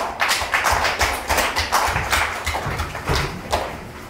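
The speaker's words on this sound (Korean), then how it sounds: "큰 박수로 환영해 주시면 감사하겠습니다" A small seminar audience claps to welcome speakers, a sparse run of individual hand claps with uneven rhythm, fairly close and thin rather than a full roar.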